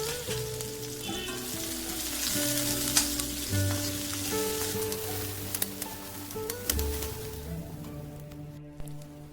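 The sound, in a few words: cubed onion frying in oil with bay leaf and cinnamon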